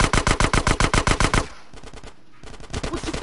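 Rapid automatic gunfire in GTA San Andreas, a loud close burst of evenly spaced shots that breaks off briefly and then resumes in a second, quieter volley.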